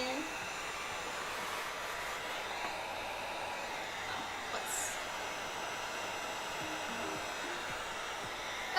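A hot air tool heat treating cosplay armor material, blowing a steady, unbroken whoosh for the whole span at moderate level, with a brief faint tap partway through.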